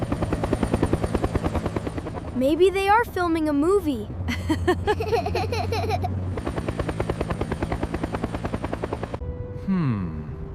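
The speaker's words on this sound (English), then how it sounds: "Look! A helicopter!" A helicopter's steady rhythmic rotor chop thrums loudly throughout, with a person speaking briefly over it partway through.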